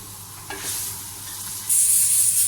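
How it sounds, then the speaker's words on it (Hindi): Masala for chicken karahi sizzles and fries in a pan, a hissing crackle that swells louder partway through as it is stirred, close and continuous. "जब तक ये हमारा मसाला जो है ये भून रहा है"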